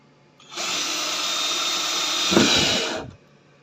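A power drill whines steadily for a few seconds, close and loud, drilling into the underside of a refrigerator freezer section, straining briefly near the end before cutting off.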